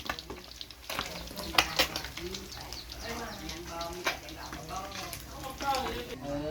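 Food sizzles and crackles in a hot pan, with stirring clatter, while a person talks over the frying throughout.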